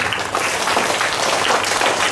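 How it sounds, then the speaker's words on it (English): An audience at a school declamation competition applauds after a student's speech: dense, steady clapping from many hands at close range, holding evenly for a couple of seconds with no voices over it. "Let's give a huge round of applause."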